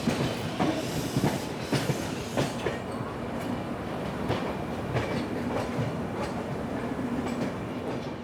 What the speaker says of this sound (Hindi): Hazrat Nizamuddin Thiruvananthapuram express arriving a little bit late.